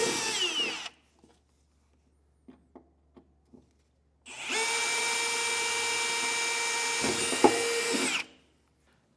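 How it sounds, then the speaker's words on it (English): A power drill whines steadily for several seconds drilling into a 2024 Ford F-series truck bed, preceded by a few light taps and a short burst of drilling, then cuts off. "we can drill right down."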